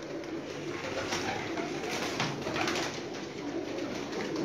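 A large rooftop flock of pigeons, some 2,500 birds, produces a dense continuous murmur of overlapping coos and rustling that holds steady throughout.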